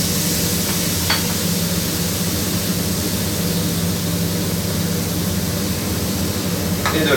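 Salted poultry sears in a hot pan, giving a steady, even hiss of sizzling at moderate level throughout, with a couple of faint clicks and no talk.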